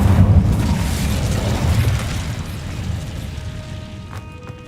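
An Incendio fire spell cast in the video game Hogwarts Legacy: a loud, rushing burst of flame that roars at the start and slowly fades, with faint chiming tones near the end.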